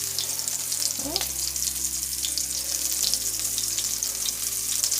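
Vegan potato croquettes lowered into hot oil in a large frying pan: a steady, bright sizzle and crackle throughout, with a few soft knocks as pieces go in.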